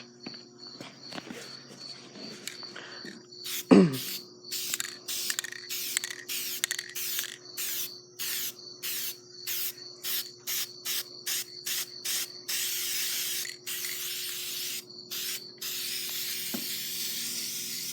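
Repeated hissing bursts of an aerosol spray can coating parts of an Auxbeam lightbar for a John Deere tractor, short sprays in a steady rhythm, close and loud, over a faint background hum.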